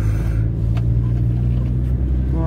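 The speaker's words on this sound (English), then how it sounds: "we're in the car" Inside a moving car, with a constant low engine and road rumble, a few faint brief clicks and a rising whine at the end, loud and steady with no speech.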